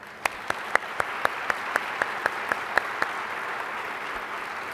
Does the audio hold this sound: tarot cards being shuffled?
no